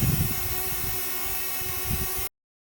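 The propellers of a DJI Flip drone whine in flight with a high, unpleasant tonal buzz over a rumbling base, steady and close until cutting off abruptly.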